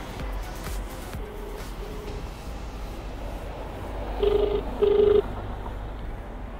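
A phone call is placed: short dial tones and beeps, then a couple of ringback tones from the handset, heard over steady road and engine noise inside a moving vehicle.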